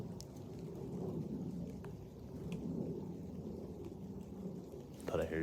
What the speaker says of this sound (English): It just started raining.